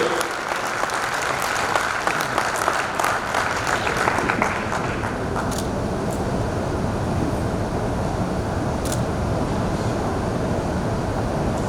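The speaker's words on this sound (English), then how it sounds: "One more round of applause, thank you," A large audience at a Diwali gala applauding an award recipient, with sustained dense clapping that fills the room and holds steady, easing slightly midway but continuing to the end.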